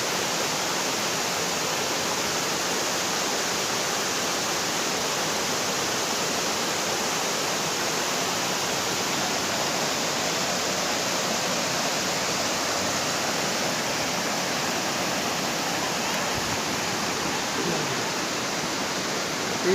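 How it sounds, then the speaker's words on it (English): Waterfall in the Cameron Highlands, Malaysia, giving a steady, dense rushing roar of falling water that holds constant throughout, close and loud, with no voices. "waterfall."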